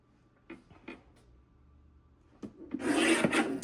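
A paper trimmer slices through a cardstock print, giving a couple of soft taps followed by a loud, close rasping cut lasting about a second near the end.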